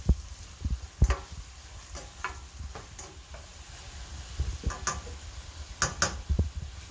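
A spoon stirs agave and other ingredients together in a pan, making irregular close scrapes and clicks over a soft background sizzle.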